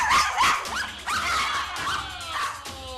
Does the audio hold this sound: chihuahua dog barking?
yes